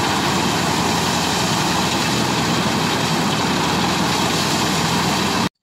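Engine of a rice threshing machine running during a semi-traditional paddy harvest in Indonesia, a loud continuous rumbling drone held steady throughout before cutting off abruptly at the end.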